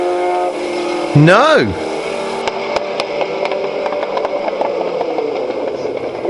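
Type 4 powered VW Beetle race car with a Type 25 gearbox and homebrewed fiberglass body, its engine passing loud with a rising then falling pitch sweep, followed by a steady drone under a commentator's voice.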